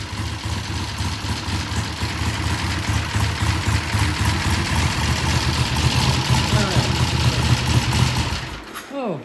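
A Triumph motorcycle engine idles with a steady, lumpy chug close by for several seconds, then cuts off abruptly before a voice speaks.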